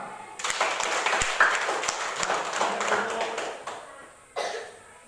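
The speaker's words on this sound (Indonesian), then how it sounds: "Tepuk tangan semua." A classroom of students claps together in a brisk burst of applause, close and fairly loud, with voices mixed in.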